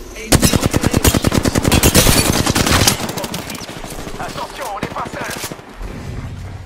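Rapid automatic gunfire in the battle royale shooter Apex Legends, a loud burst of evenly spaced shots for a few seconds, then more scattered fire and noise with a voice talking over it.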